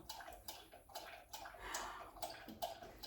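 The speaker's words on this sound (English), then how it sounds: "Zoom, now is not a good time for you to start drinking water right now." Quiet rhythmic lapping and sloshing of water as a dog drinks, a steady series of small wet splashes close by with no voices.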